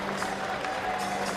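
Applause from a crowd of about 63,000 at Twickenham for the Army side after an Army versus Navy rugby match, a steady wash of distant clapping that holds at an even level throughout.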